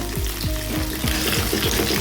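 Pieces of bhola fish frying in hot oil, a steady close sizzle broken by regular scraping strokes of a spatula stirring the pan, with no voices.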